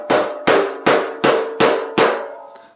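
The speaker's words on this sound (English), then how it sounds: "you basically start and you don't hammer the whole thing all the way" Six evenly spaced, ringing hammer blows strike a 1932 roadster door panel, each metallic hit decaying into a short sustained ring before the next, loud and close, with a faint final tap at the end.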